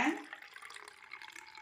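Blended white pumpkin juice being strained, a soft liquid pour and trickle that starts a little louder and then settles into a steady faint flow, close and alone.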